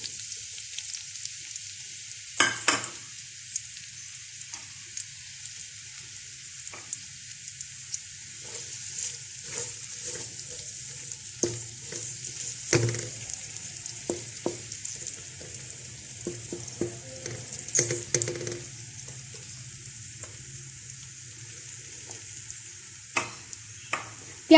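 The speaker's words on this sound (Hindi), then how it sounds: "ऑयल हमारा गर्म हो गया, इसके अंदर हम प्याज को डालते हैं" Onions frying in hot oil, a continuous sizzle with intermittent stirring clatter and scrapes in the pan, steady and moderately close, with no voices.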